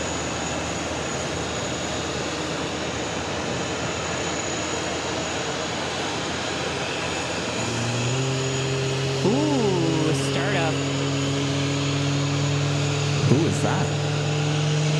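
A jet airliner's engine spools up at JFK airport, rising to a steady whine and low drone over constant distant airport rumble, with brief speech.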